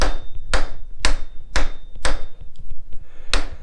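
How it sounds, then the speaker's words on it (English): A lead hammer strikes a stuck, corroded gear case on a Brown & Sharpe milling machine knee: six loud, sharp metallic blows at a roughly even half-second rhythm, close up with brief ringing after each hit. "I think I need a bigger lead hammer."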